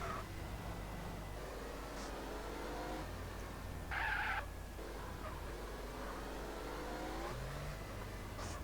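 Car engine from the video game GTA San Andreas, a continuous revving drone with rising and falling pitch, a brief harsh burst midway, no one speaking.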